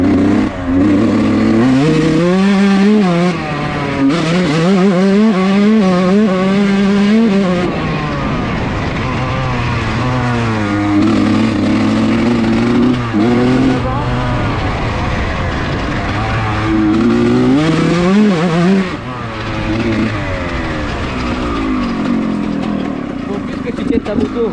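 Two dirt bikes, a 125 WR and a 125 RM, ride a motocross track, engines loud and close, revving and shifting pitch continuously through the run, with voices talking over the engine noise.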